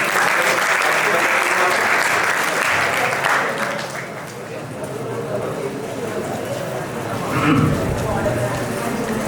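Audience applause at a school maths seminar fills the clip, dense clapping that dips briefly midway then swells again, with a voice speaking over it.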